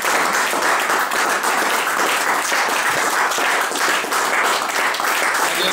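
A church congregation applauds during a New Year's Eve service, dense sustained clapping from many hands filling the room at a steady loud level from start to finish, with no voices standing out.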